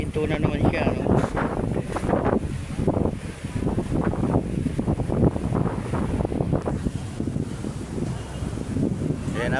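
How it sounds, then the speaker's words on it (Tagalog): Strong wind buffets the microphone in loud, gusty roars at Manila Bay, with a voice talking underneath and hints of water nearby. "ang lakas ng hangin"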